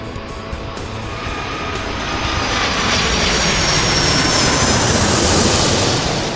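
Airplane taxiing in the video game Airport Madness 3, a steady broadband engine roar that swells slightly and holds loud and continuous throughout, with no talk.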